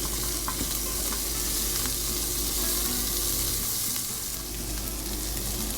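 Onions frying in a pan for a hamburger steak dish, giving a steady, loud sizzle throughout, with occasional stirring clicks and scrapes close up and no talking.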